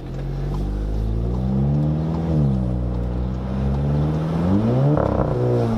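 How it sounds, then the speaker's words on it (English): A car with a DSG gearbox revs inside the cabin, a loud continuous engine drone with rising and falling pitch sweeps and a brief burbling exhaust blip near the end. "Did your car just fart? It's a DSG fart, okay?"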